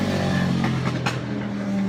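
Several motorcycles roar past outside open windows, a loud, broad engine rush that swells briefly before easing off, heard from indoors.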